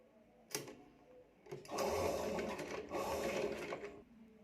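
A sewing machine top-stitches folded, doubled fabric while sewing a princess-cut front panel, running in two sustained bursts with a short pause between, close and moderately loud after a brief sharp click.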